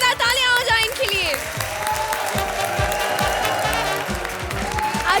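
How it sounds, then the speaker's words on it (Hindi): Studio audience applause for a television comedy show's cast, a dense steady wash of clapping lasting throughout, with a host's voice and music cues over it at the start. "जोरदार तालियां हो जाए इनके लिए।"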